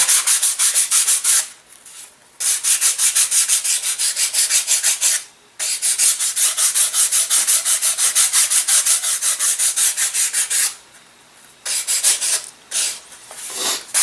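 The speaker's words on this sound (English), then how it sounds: "The bottom of your stab you also want to sand a little bit, like so." Sandpaper rubs back and forth on the stabilizer of an Evo Fire model airplane, a loud close rhythmic scratching in long steady runs broken by brief pauses.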